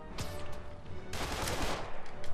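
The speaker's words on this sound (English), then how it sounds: "Just gunfire galore." Dense rapid gunfire from multiple weapons in Marvel's Spider-Man, bursts layered over one another and swelling louder midway, with the continuous clatter keeping up to the end.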